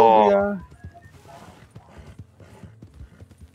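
Horse hooves clip-clop in the video game Red Dead Redemption 2 Online. A brief loud tonal burst opens, then a rhythmic run of fairly close hoof clops continues.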